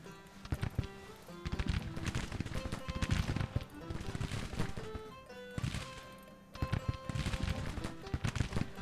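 Civil War musket volleys in a battle strategy game, bursts of crackling gunfire in rolling waves, dense and loud, fading briefly before another round of firing, with no voices.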